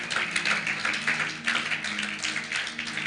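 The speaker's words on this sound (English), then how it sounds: "Clap your hands and give God some praise" Congregation clapping hands in praise at a church Easter convention, a dense steady patter of many hands over sustained organ or keyboard tones, fairly loud and continuous.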